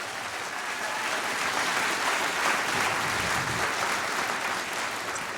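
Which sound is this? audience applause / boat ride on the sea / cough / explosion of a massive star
audience applause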